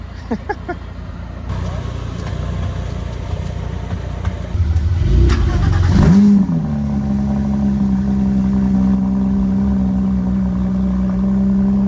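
A flat-plane crank sports car engine at a supercar meet idles roughly, blips and revs hard, then holds a loud, buzzing high-pitched drone; voices talk faintly underneath.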